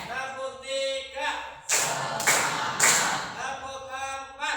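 A classroom group claps hands together in rhythmic bursts, a few sharp broadband claps in sequence between spoken counting.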